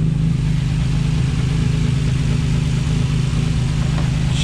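A project car's engine idles after a fresh brake upgrade and new catch can install, a steady low, close rumble holding an even tone from start to finish with no voices.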